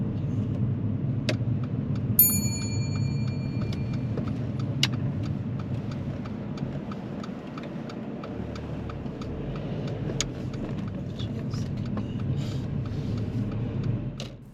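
A car pulls away uphill in second gear, its engine a low steady rumble under strain, close and continuous, with a few light clicks and jingles and no voices.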